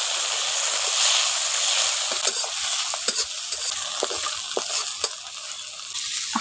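Onion and chopped tomato fry in a pan with a steady bright sizzle, while a spoon scrapes and stirs in irregular clicks close by.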